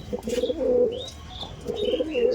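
Pigeons coo nearby in soft throaty bursts, two clear phrases at the start and end with faint chirps between, no talking.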